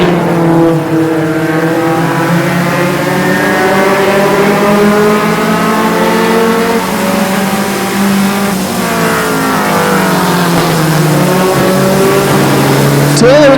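Mini stock race cars circle Flamboro Speedway, their engines droning loudly and steadily with shifting pitch as they pass, while a commentator talks over the racing.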